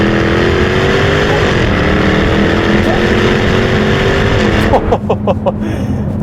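A 2021 Jaguar F-Type P450 accelerating hard, engine droning loud and close with rising pitch through gear changes, then a burst of sharp crackles and pops on the overrun near the end.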